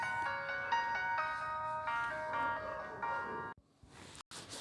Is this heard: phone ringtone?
yes